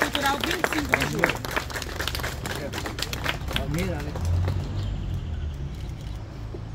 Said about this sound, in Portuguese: um aplauso carinhoso a eles